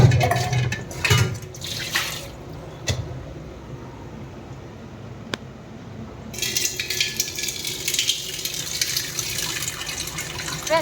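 Hot water streams and splashes into a pot for cooking rice, a steady close pour with faint drips and a brief pause before the flow resumes more brightly.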